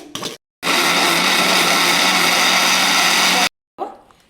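A mixer grinder whirs loudly and steadily for about three seconds as it blends barley, starting and stopping abruptly, with brief speech before and after.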